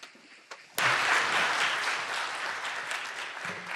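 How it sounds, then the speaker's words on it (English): An audience at a book launch on universal health coverage bursts into loud applause after a couple of isolated claps, then keeps up a full, steady round that eases slightly toward the end. "Could we have a big round of applause for those up on stage"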